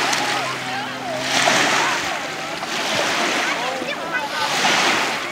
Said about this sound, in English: Whoa, you see those big waves coming in?